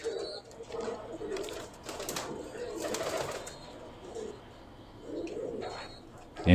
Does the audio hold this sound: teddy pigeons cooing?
yes